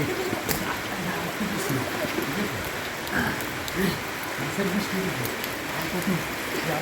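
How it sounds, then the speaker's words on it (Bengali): Steady rain pattering on surfaces in flood-hit Noakhali, a continuous wet hiss heard close with people talking over it throughout. "মাছের বৃষ্টি দেখতে পাচ্ছ দর্শক মাছের বৃষ্টি হচ্ছে"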